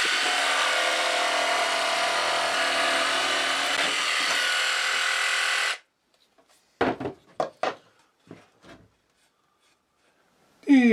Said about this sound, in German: Jetzt brauchen wir das nur noch mit der Stichsäge auszuschneiden.